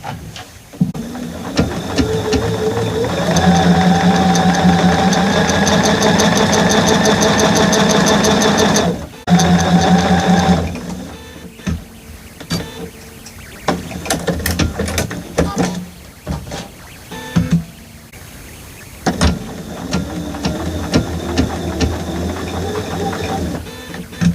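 A sewing machine runs in a long steady whirring burst while stitching two fabric pieces with a half-inch seam allowance for a baby bath apron, then stops and gives way to shorter clicks and handling noises.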